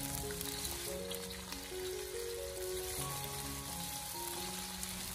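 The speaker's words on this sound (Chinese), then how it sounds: "锅里面添加适量的花生油，把油烧热以后，接着再把姜葱蒜给它放进锅中，用小火给它慢慢的翻炒一下。" Ginger, scallion and garlic stir-fry over low heat in hot peanut oil for Cantonese soy sauce chicken, giving a steady close sizzle with faint stirring and no talking.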